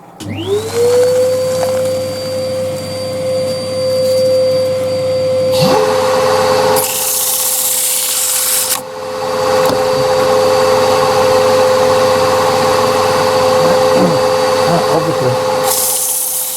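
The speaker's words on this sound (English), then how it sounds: "it's all sanded down to 400, same as the outside" A live edge cherry wood bowl is sanded on a spinning lathe, a loud steady whine with a high motor hum and occasional rougher bursts of abrasive friction up close, without talk.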